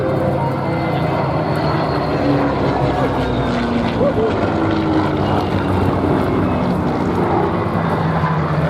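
A pair of Buchon fighters, Messerschmitt Bf 109 type, flying overhead, heard as a loud steady propeller-engine roar that holds without a break throughout.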